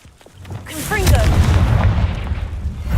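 A Confringo fire spell blasting in Hogwarts Legacy, a loud, close explosive boom that swells and rolls on in a sustained rumble, with a brief voice near the start.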